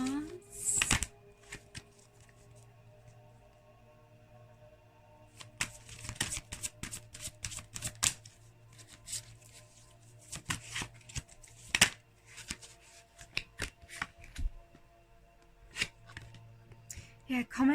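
Tarot cards are shuffled in soft, irregular riffling and slapping bursts, fairly close but quiet, with a voice talking at times around them.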